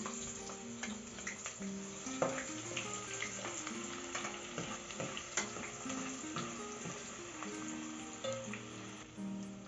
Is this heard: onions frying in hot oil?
yes